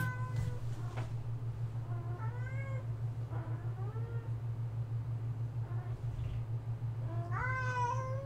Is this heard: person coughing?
no